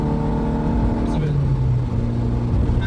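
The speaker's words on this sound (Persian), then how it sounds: "الان بخوایم یک شتابگیری از ماشین بگیم" A Peugeot 206 Type 2 car accelerates in rainy weather, its engine note rising steadily from inside the cabin under a constant road and rain hiss.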